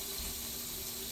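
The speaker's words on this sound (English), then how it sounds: "I think I might add a little bit of water in there just so that they don't burn" Water poured from a tap into a pan of portobello mushrooms, a steady, even rush of running water for about a second with no voices.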